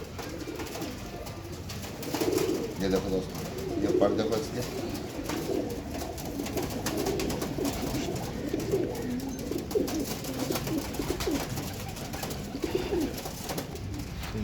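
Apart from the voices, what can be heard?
red pigeons cooing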